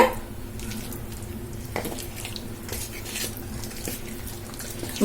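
A ladle stirs hot oil into onion bonda batter in a metal bowl, giving wet scraping and soft clinking knocks at an irregular pace, close up, with no voice present.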